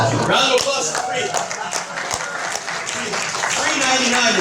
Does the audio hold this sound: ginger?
no